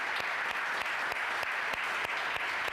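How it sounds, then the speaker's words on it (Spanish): A church congregation claps together, a brisk run of many hands applauding at moderate volume, steady and unbroken for a couple of seconds. "Den un aplauso a ver si lo creen."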